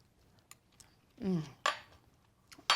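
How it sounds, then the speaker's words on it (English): Ingredients stirred together in a bowl, a short close sequence of a utensil scraping and clinking against the bowl, with a few sharp taps between quiet moments. "And now we can just stir this together"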